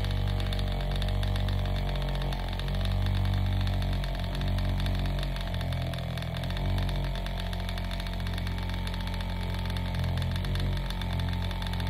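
A drill-driven vortex paint mixer spins in a can of metallic paint, giving off a loud, steady motor whine with a churning, rattling texture that holds constant throughout.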